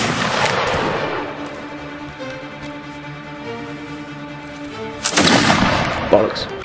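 Cannon and musket gunfire in a Napoleonic-era naval battle game, with loud bursts at the start and again near the end over a sustained rumbling battle din, with some talk in the background.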